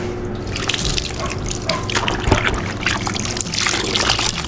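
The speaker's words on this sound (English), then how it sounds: "we're just wiping it all down, just with good old water" Water splashes, drips and trickles as 120-year-old beadboard walls are wiped down, with wet cloth strokes and scattered droplets up close.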